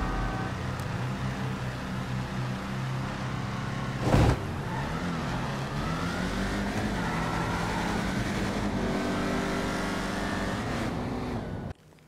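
A Mustang launching in a GTA V drag race with boost: a loud, steady engine drone climbs in pitch as it accelerates, with one brief sharp burst partway through, and then cuts off abruptly at the end.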